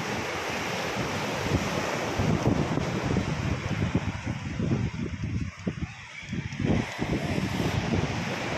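Steady roar of ocean waves breaking and washing onto a beach strewn with trash and driftwood, loud and continuous, with wind rushing across the microphone.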